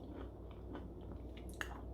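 A few quiet, close crunches of teeth biting into a crisp, fairly hard crust of a thawed vegan Nutella tart, followed by soft chewing.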